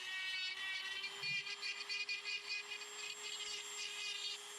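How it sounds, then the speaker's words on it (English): A Dremel rotary tool with a coarse ball bit carves crevices into wood, giving a steady high-pitched motor whine with a fluctuating grinding edge, close and continuous, alone without talk. "I like to make crevices first with a ball bit"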